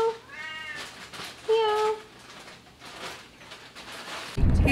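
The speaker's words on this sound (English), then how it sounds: "Meow. Meow. Meow." A cat meows twice, close and clear, the two calls separated by a pause, followed by a sudden low thump at the end.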